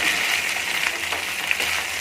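Kerala style beef chilli being stirred in a pan, with a steady, close sizzling hiss and faint scraping taps throughout.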